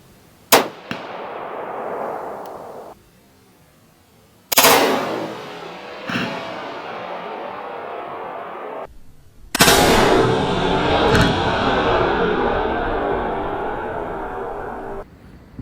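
Rifle shots fired through a muzzle brake: three sharp, very loud cracks spaced several seconds apart, each followed by a long rumbling echo and decay, with a faint click between.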